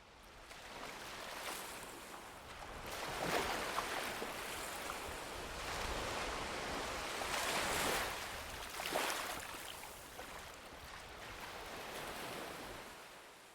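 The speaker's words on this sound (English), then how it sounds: "the ocean had returned to its natural, peaceful state where the waves were quietly lapping up on shore" Gentle ocean waves lap onto the shore at Longboat Key beach, rising and falling in slow swells every few seconds, a soft, close wash with no voices.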